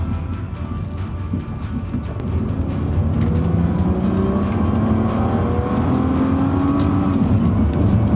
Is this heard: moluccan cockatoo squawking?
no